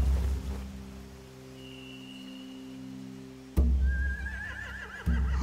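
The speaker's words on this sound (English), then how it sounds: "They have horses." Horses in The Walking Dead video game give a whinny whose wavering cry rises partway through. Low rumbling ambience and two sudden thumps surround it, with no speech.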